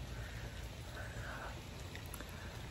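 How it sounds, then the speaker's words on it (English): Steady rain falls on a neighborhood street, a dense, even hiss of drops across the whole clip with no talk heard. "It's raining pretty good, so that's cool."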